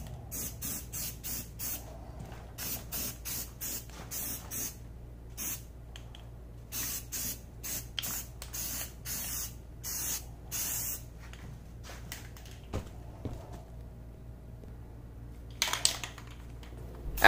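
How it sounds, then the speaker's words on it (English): A can of Rust-Oleum spray primer sprays a light first coat onto vintage Ronal wheel rims, coming as a run of short hissing bursts, some quick and clustered, others longer, close and clear over a faint background hum. "So starting with the primer, you just want to put on a light, even first coat"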